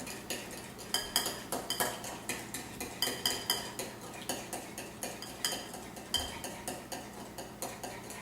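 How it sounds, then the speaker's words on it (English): A whisk clinks rapidly and rhythmically against a bowl as canola oil is slowly beaten into a vinaigrette, producing steady close metallic ticking with a few louder taps and no talking. "we're going to add the canola oil, 3 tablespoons, slowly, whisking"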